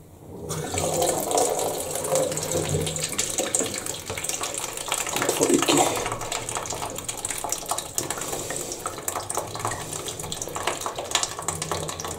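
Water runs and splashes out of a Baxi Main 24 Fi gas boiler after its NTC temperature sensor is loosened, a continuous close trickle with small drips and handling clatter.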